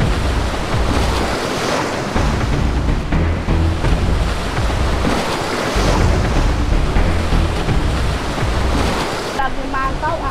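Ocean waves break continuously on a shore, a loud rushing surf with wind buffeting the microphone. A faint voice can be heard underneath near the end.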